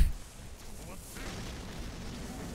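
Guns firing in the video game Attack on Titan 2 during a co-op final battle, a string of sharp booming shots over a dense, noisy battle backdrop.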